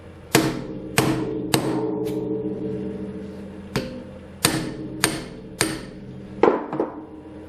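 A hammer strikes a screwdriver set in a screw on a Lambretta engine casing, giving sharp, loud blows at an uneven pace, about eight in all, each with a short metallic ring over a steady low workshop hum.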